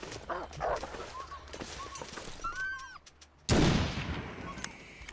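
Two sharp gunshots ring out in the survival video game The Long Dark, the second a loud, close blast followed by a decaying echo, with other wilderness sounds and tonal calls earlier.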